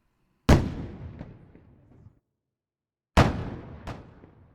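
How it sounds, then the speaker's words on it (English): Cannon fire salutes in Richmond: two loud, booming blasts a few seconds apart, each with a long rolling echo that fades out, with no voices. "Cannons fired every few minutes"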